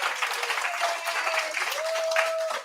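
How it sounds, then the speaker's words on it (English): A church congregation claps together at a Sunday service, a steady dense wash of applause held throughout at moderate loudness, with a faint sustained tone running beneath it. "I'd like to give her a round of applause for all that she did"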